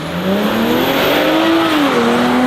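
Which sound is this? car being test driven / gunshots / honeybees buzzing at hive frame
car being test driven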